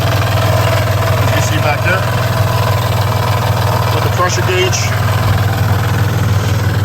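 A built J35 V6 in an Acura TL Type-S, fitted with ported and polished heads and an aftermarket fuel system, idles with a steady, even low hum and clatter, while someone talks over it.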